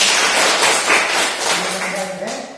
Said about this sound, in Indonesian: kita tepuk tangan semua dulu untuk kalian yang sudah menjawab